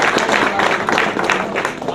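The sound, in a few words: applause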